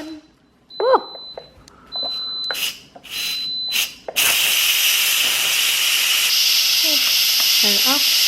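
An Instant Pot's pressure release valve, turned open with a wooden spoon, bursts into a loud, continuous hiss of venting steam that runs steadily to the end, after a few brief knocks and a short exclamation.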